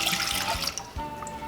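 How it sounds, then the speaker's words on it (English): A cup of apple cider vinegar is poured for a smoked chicken quarters marinade, giving a brief, close splashing liquid rush that fades out quickly. "we are going to add a cup of apple cider vinegar"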